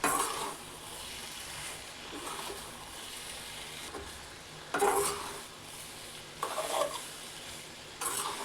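A spoon scrapes and stirs masala pasta in a pan over the stove, soft sizzling underneath, with a few louder clatters of utensil against metal breaking the steady mixing.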